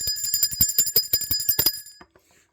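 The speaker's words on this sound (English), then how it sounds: "Let's ring the bell for that." Small bell rung rapidly, a quick train of bright metallic rings for about two seconds before it stops and fades, close and without any talk.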